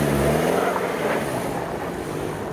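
A Toyota RAV4 XLE with AWD accelerates up a snowy, icy hill, its engine a loud, steady drone with tire and road noise, and no speech.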